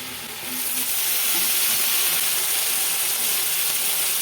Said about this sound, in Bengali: এবার আমি দেবো ভিজিয়ে রাখা শুটকি মাছটা